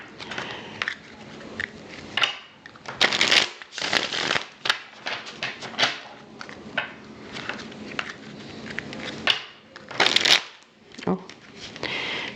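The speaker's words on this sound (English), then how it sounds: "couple more shuffles. This is a brand new deck." A brand-new deck of cards is riffled and shuffled repeatedly in quick bursts, close up, with short pauses between shuffles and no voices.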